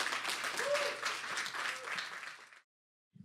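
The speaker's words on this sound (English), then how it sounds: "Let's give her a big round of applause, everybody." Applause from an audience at a community talk swells and rolls for a couple of seconds, fairly close and dense, then cuts to silence before a brief soft sound at the very end.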